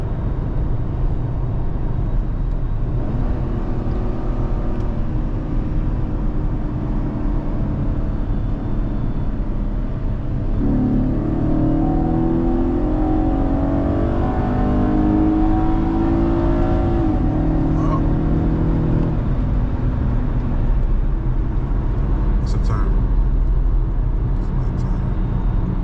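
A car accelerates hard through gears shifted with paddle shifters, its engine note rising steadily, then dropping and climbing again at each upshift, loud and close from inside the cabin.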